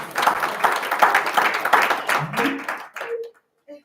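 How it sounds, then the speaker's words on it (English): An audience at a government social media summit applauds the University of Johannesburg, a burst of close, dense clapping that thins out as a voice begins speaking. "And they deserve a round of applause."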